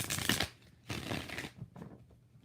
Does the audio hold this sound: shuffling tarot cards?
yes